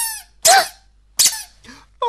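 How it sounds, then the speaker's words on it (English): A person playfully making squeaks in a children's programme: three short squeaky bursts, near and fairly loud, separated by brief pauses. "The one with the squeak is me."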